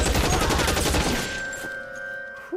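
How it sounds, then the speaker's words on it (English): A burst of rapid gunfire in the video game L.A. Noire Remastered, several loud overlapping shots in the first second and a half, then a ringing tail fading toward quiet with a faint tone holding underneath. "Come on, shoot!"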